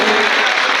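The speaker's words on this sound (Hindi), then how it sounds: "एक बार जोर तालियां जी भाई को" Brief burst of dense audience clapping for a poet at a patriotic poetry recital, loud and steady for under a second with no speech over it.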